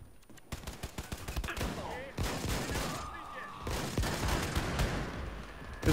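Repeated heavy shotgun blasts in Wolfenstein II, fired in quick irregular bursts with echoing booms, loud and close amid ongoing combat noise, with a voice talking underneath.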